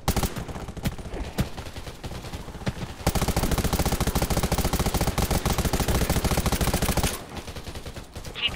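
Gunfire in the video game Undawn: rapid automatic bursts, with a long sustained stream of fast repeated shots in the middle, loud and close with no talk.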